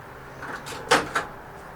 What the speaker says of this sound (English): We've got this really cool microwave drawer.